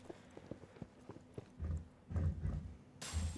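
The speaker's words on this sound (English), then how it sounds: "I'm hearing other footsteps." Footsteps of other players in the video game Hyperscape, heard as repeated thudding steps that start soft and grow louder and heavier toward the end, with a burst of higher game noise near the close.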